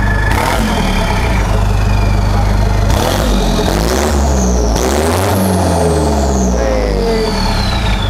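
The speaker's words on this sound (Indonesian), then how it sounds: "Makin keras suara knalpotnya karena dari samping." A modified Toyota Innova engine revs loudly and repeatedly near its side-exit exhaust, rising and falling in pitch with a deep, throaty roar between surges.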